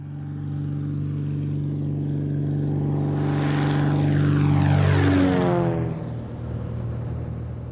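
A sheriff's small propeller airplane flying low during an aerial search, droning loudly as it approaches and passes overhead with a clear falling pitch sweep, then fading slightly.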